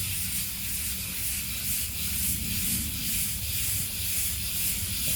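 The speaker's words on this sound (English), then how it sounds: "I've got 320 sandpaper here" Hand sanding of a shellac finish with 320-grit sandpaper, a steady, even scratchy rubbing that continues throughout at close range with no talking.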